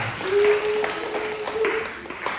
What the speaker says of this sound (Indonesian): Oke, luar biasa. Tepuk tangan dong.